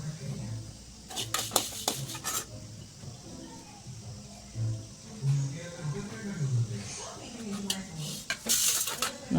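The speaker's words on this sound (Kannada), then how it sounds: "ರೋಸ್ಟ್ ಆಗಿರೋ ಧನಿಯಾ ಒಣಮೆಣಸಿನ್ಕಾಯಿನ ಒಂದು ಪ್ಲೇಟ್ಗೆ ಶಿಫ್ಟ್ ಮಾಡ್ಕೊಳ್ಳೋಣ." Roasted coriander seeds and dry red chillies are scraped from a pan onto a plate for a methi sambar, giving scattered clinks and scrapes of utensils against cookware, with a voice talking over parts of it.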